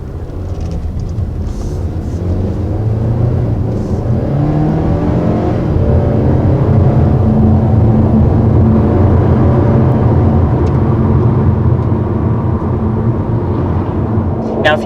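A 2021 Kia Seltos small SUV's turbo engine revving up and accelerating hard, a loud droning whine that rises and holds, heard from inside the vehicle.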